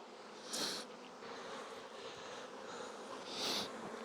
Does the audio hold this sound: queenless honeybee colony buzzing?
yes